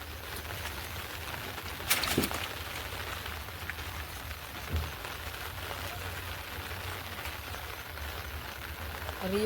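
Heavy monsoon rain pours down during a night of fishing in Konkan, a dense, constant patter on surfaces with a couple of brief knocks and no voices.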